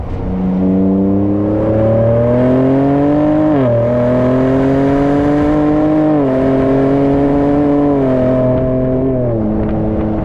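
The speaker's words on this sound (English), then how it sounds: "Number 9, the exhaust sounds like a fart." A 2024 Ford Ranger Raptor pickup engine revs steadily with a deep, throaty exhaust drone, pitch rising and dipping in several waves, close up and continuous.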